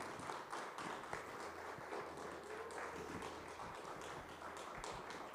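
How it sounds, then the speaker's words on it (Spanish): An audience at a conversatorio applauds in a steady, dense patter of clapping that fills the whole stretch at moderate level, with no one speaking over it. "Regálenme un aplauso, por favor."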